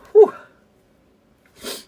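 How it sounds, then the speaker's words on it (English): One sharp sneeze bursts out close to the microphone in a dusty room, followed by a short breathy sniff or exhale a moment later, with near silence between them. "Boy, I gotta sneeze, man."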